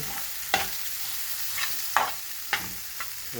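Noodles with mushroom, spices and sauce fry in a pan with a steady, close sizzle, punctuated by sharp utensil scrapes and knocks about every half second.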